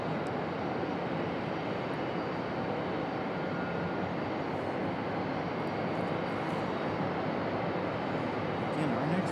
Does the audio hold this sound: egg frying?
no